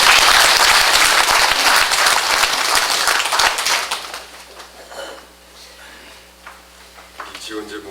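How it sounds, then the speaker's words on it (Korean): Applause from a church congregation at a Korean pastor's retirement ceremony, loud and dense for about four seconds before tapering into scattered claps and faint murmuring. "그냥 박수 한번 더."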